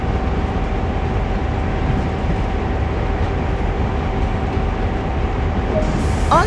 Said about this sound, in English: All you need to do now is bring the train to a gradual stop.